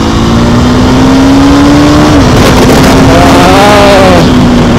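A KTM Duke 390 engine drones loud and close, its pitch sinking as the rider downshifts and brakes, with a brief blip between gears and wind rushing past, no talk.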